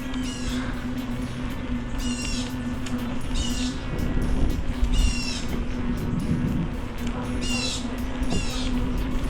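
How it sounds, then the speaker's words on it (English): Birds calling along a cycling trail in Austin, repeated harsh caws and chirps at a moderate distance over a steady hum of wind and riding noise. "let's just enjoy the ride, hear the birds singing."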